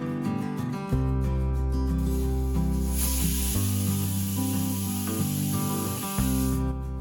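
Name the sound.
pressure cooker whistle releasing steam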